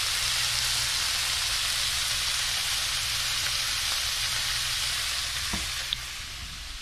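Small mangrove snapper fillets sizzle steadily in butter in a hot pan, a close, even crackling fry with a brief clink near the end.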